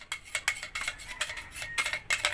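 A metal tablespoon scrapes and clinks against a small bowl holding an egg mixture, a quick run of bright rhythmic scraping strokes heard up close with no talk.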